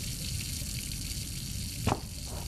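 Water runs steadily into a bathtub in the horror game Layers of Fear, a constant rushing hiss with a brief knock near the end.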